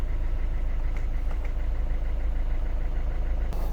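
A diesel DV5 engine in a small van such as a Rifter or Berlingo idles steadily after a fuel filter change. It gives a constant low, throbbing rumble with faint knocking and a brief clatter near the end.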